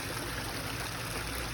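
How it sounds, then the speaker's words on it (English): A small waterfall spills into a backyard goldfish pond, making a steady, close, even rush of splashing water that never changes over the short stretch. "It's just mostly a waterfall pond."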